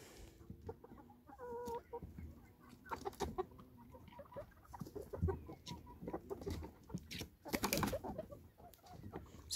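Chickens cluck and murmur while settling to roost in a park, with scattered close clucks, soft calls and rustling bursts that are irregular and fairly quiet.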